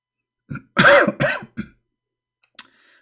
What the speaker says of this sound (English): I apologize, I'm coughing in front of the mic.